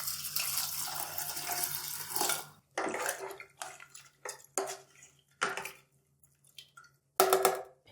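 Water splashes and pours into a pan of beef karahi in a few separate bursts, starting with a longer stream and then shorter pours with quiet gaps between them, with no talk.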